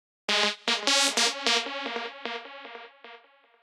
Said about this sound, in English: The fourth sound is the lead sound,